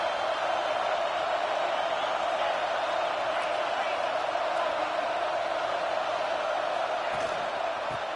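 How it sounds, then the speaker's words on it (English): A stadium crowd roars during a College Football 26 video game broadcast of Oklahoma at Arkansas, a loud dense wash of cheering that holds steady throughout. "Listen to this crowd just shaking the girders of this place"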